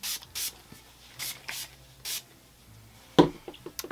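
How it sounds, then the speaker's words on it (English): Several short hissing bursts from an aerosol hairspray can, spaced apart with brief pauses, followed by a louder knock near the end. "then I want to spray"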